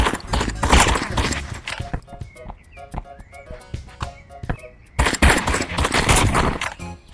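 Desert Eagle pistol fire in the video game Animal Rivals, heard as a series of sharp, sparse shots amid game sound effects, with heavy bursts of denser gunfire at the start and end.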